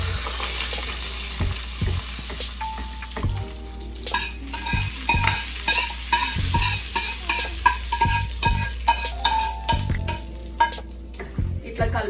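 A spoon stirs fried tempering into fermented rice (pakhala), scraping and clinking against the pot in an irregular rhythm over a soft background sizzle, close and fairly quiet.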